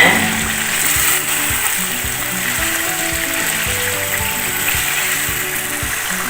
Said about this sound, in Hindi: इसको हमें भूनना है